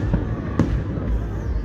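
The Runcorn/Widnes fireworks display of 2022 sounds as dull, distant booms with one sharper crack, rumbling under an outdoor crowd while people nearby chat.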